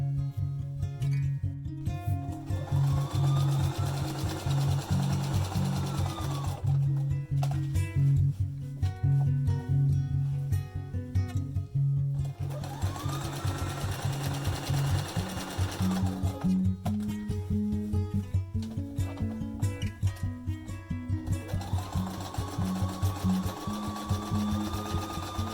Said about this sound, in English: Now you're going to sew along one side of the seam, making sure that it's down.